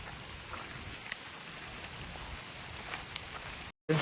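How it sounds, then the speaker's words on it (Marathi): Rain falls in a steady, even hiss outdoors, with a few scattered drips, continuing alone without voices before a brief cut near the end. "आणि बघा पाऊस परत इलो"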